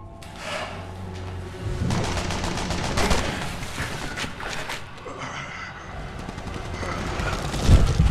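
Gunfire in Resident Evil 6 cracks out in scattered sharp shots and short bursts over several seconds, mixed with booms and game noise, with a voice briefly under the shooting.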